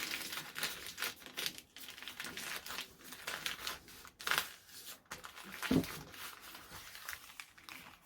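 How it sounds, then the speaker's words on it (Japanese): Newspaper rustles and crinkles as it is folded and creased around a long yanagiba kitchen knife, with faint, continuous papery handling and soft taps, close and quiet. "新聞で包もうかなと思います。"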